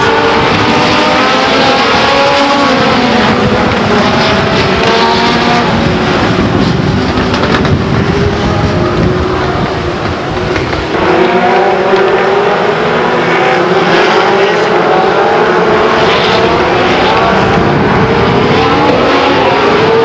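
Loud race cars roaring around the oval at Stockton 99 Speedway, engines droning and swelling continuously as the pack passes close by.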